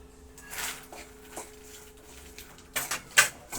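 A cup of dry-roasted makhana fox nuts tumbles into a pan for a spicy namkeen snack, a short cluster of light rattling, pattering bursts near the end after some soft handling noises, with nobody speaking.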